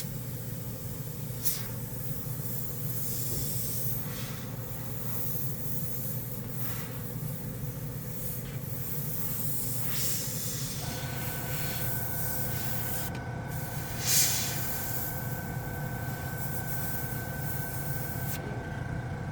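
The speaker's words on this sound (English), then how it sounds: "really all-around great airbrush" An airbrush spraying paint onto a plastic model, heard as a steady soft hiss running throughout over a low background hum, with a brief brighter burst near the end.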